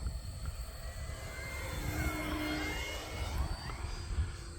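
An E-flite Focke-Wulf Fw 190A 1.5 m electric RC model warplane flies past outdoors, its propeller whine rising and falling in pitch as it passes, over steady wind rumble.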